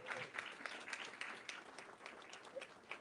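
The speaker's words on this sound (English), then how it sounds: "Let's give them a round of applause." Scattered applause from a rally crowd honoring federal workers, moderately distant and steady for a few seconds, with sharper claps poking through a soft wash.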